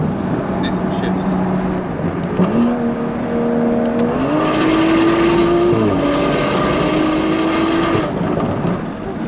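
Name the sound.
BMW M235i engine revving through gear shifts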